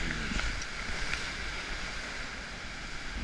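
Large whitewater waves on the Illinois River near Cave Junction, Oregon, at high water of 25,500 cfs make a steady, dense rushing roar from a boat, with wind buffeting the microphone and no voices.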